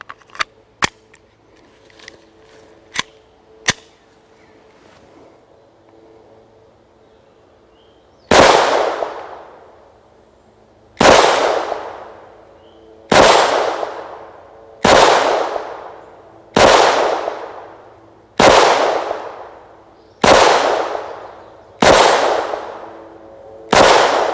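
A Taurus TX22 pistol fires Winchester bulk ammunition outdoors, with a few faint clicks first, then nine loud, close, sharp shots spaced roughly a second and a half apart, each with a ringing decay.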